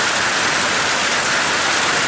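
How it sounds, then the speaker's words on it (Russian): Steady, dense rain patters on apples nearby, a continuous hiss of drops with no voices. "Яблочки моются под дождем."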